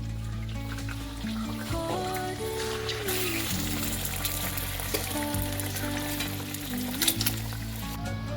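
Cabbage patties dipped in egg frying in hot oil, a continuous moderate sizzle with a few bubbling pops, heard alone over a steady background hum.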